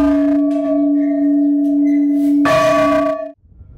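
A church bell in a Russian bell tower rings out, its humming tone sustaining before a second loud strike blooms, then cuts off abruptly.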